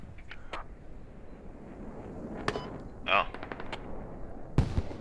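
Machine gun fire crackles in short bursts in the video game Squad, set in Fallujah, some sharp and near, others distant, while players talk over voice chat.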